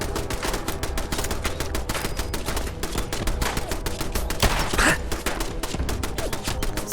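Laser turrets in the game Fallout 4 fire in a relentless rapid stream of sharp zapping shots, loud and continuous, with a brief louder burst near the end.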